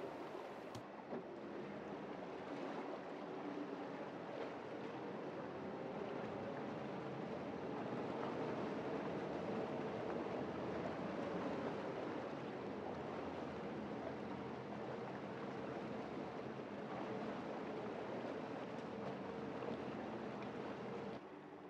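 A pair of Mercury Marine 600hp V12 outboard engines idling together, totaling 2400 horsepower, giving a smooth, steady, muffled low rumble throughout with faint water and breeze in the background, no talking.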